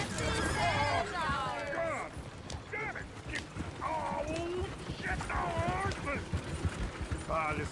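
Horses in the video game Red Dead Redemption 2 whinny repeatedly over a steady clatter of hooves, the neighs rising and falling among several voices talking throughout.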